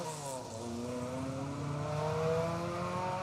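A BMW rally car on a forest rally stage, engine revving hard and rising through the gears as it passes fairly close, a continuous loud growl with no talk.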